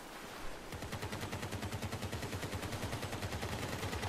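Rapid machine-gun fire at an enemy in the vehicle combat game Crossout, a steady fast stream of shots starting after a brief lead-in and continuing evenly, fairly faint.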